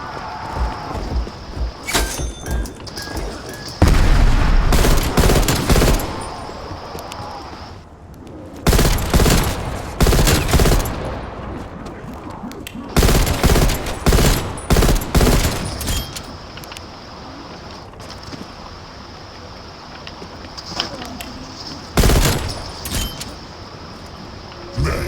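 Gunfire from Call of Duty Black Ops Cold War Zombies blasts in loud repeated bursts and rapid volleys, separated by quieter gaps of game ambience, with no talk.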